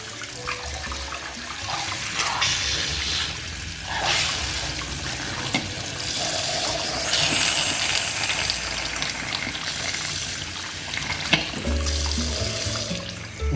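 A pressure cooker held under a cold kitchen tap while cooking Brazilian black beans: water gushes and splashes continuously and loudly against metal, with shifting spray and no talking.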